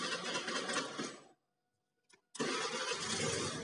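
Car engine cranked on the starter during a battery voltage check, a short whirring crank then catching into a loud steady run, with a near-silent gap between two stretches of running.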